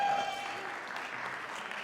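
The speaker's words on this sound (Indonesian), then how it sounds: "aplaus dulu" Audience applause at an Indonesian digital marketing seminar for aspiring small-business owners, a steady dense clatter of clapping from a crowd that holds evenly for a couple of seconds with no talk over it.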